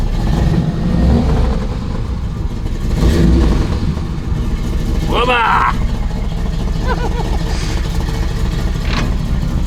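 A beat-up old pickup truck engine revs hard close by, a rough mid-pitched roar that swells and falls, with a man briefly exclaiming over it.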